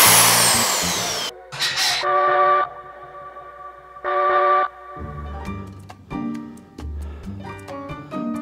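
A power drill fitted with a 5mm bit bores a hole, whirring in several short bursts with pauses between them, loud and close, in a hot indoor room during a curtain-hanging job.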